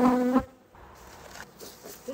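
Honeybees buzz loudly around an open hive of a defensive colony in a subarctic apiary as frames are brushed off during late-season hive reduction, a dense insect drone that cuts off abruptly and then lingers faintly.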